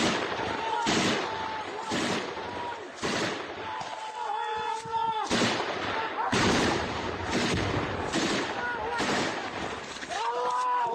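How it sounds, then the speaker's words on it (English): Gunfire in a firefight with Russian forces on the outskirts of Kyiv: repeated loud, sharp cracks roughly every second with echoing tails, mixed with shouting voices between shots. "We have new video of a firefight with Russians on the outskirts of the Ukrainian capital."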